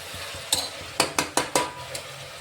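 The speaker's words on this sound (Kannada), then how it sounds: "ಮಿಕ್ಸ್ ಮಾಡ್ಕೊಳ್ಳೋಣ ಒಂದು ಸ್ವಲ್ಪ" A spoon scrapes and stirs beetroot pulao mixture with salt and turmeric in a pan, giving about five sharp, close scraping strokes over a faint background hiss.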